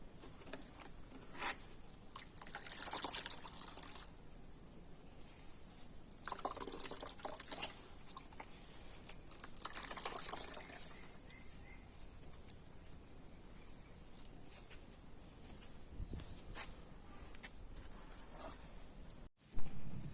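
Wet cocopeat pressed by hand for tomato seedlings, with water trickling and dripping out in soft irregular patters, faint and close against a quiet background.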